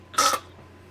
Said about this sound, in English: I was in the middle of clearing my throat.